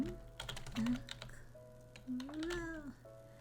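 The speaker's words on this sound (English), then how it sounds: "My keyboard is like sideways on my desk, so it's a little difficult to type" Keys clatter on a computer keyboard set sideways on a desk, a run of quick, light taps under a soft, tonal background sound.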